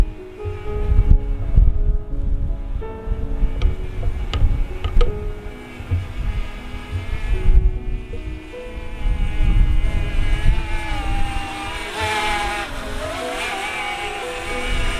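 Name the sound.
DJI Mavic Mini drone flying nearby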